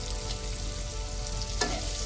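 Onion and garlic sizzle steadily in a hot pan for shrimp lo mein, a continuous close frying hiss with one brief scrape of a utensil.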